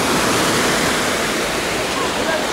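Sea waves wash onto a crowded beach in the Oba district of Alanya, a steady close roar of surf with no clear breaks, occasionally bigger waves.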